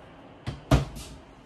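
A small kitchen drawer in a 2023 Jayco Eagle 28.5RSTS travel trailer pushed shut, with a soft knock followed by a louder close thump, heard nearby in a quiet room.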